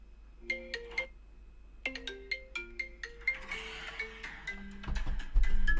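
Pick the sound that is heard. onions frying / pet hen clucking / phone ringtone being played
phone ringtone being played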